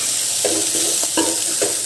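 Potato pieces for aloo manchurian are stirred in a sizzling frying pan, several scraping spoon strokes in uneven rhythm over a steady close frying hiss, no talking.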